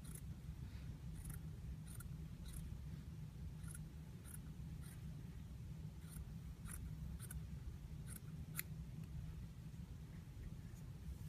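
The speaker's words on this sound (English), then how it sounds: "Now what we need to do is trim fairly close to that stitch line." Soft, quick snips of scissors trimming fabric close to a stitch line for a Hong Kong seam finish, faint repeated cuts in small clusters over a steady low hum.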